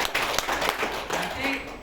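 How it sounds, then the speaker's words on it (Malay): An audience at a seminar gives a brief burst of applause for a woman, the clapping loud and busy but short-lived, mixed with talk. "bagi tepukan kepada Ibu Erna"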